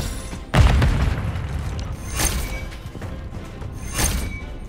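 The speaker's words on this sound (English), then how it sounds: "Target acquired. Strike inbound. Impact, no hit." Precision airstrike in Call of Duty Modern Warfare 3 video game: one heavy explosive boom up close, then two fainter crashing impacts a second or two apart over a constant low rumble.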